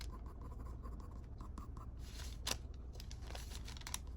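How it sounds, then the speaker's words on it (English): Watercolor pencils scratch and stroke across paper while filling in a drawn face, close and quiet, with short irregular strokes and a few sharper scrapes. "This is my first time using watercolor pencils, so I'm being extra careful of where I place the coloring"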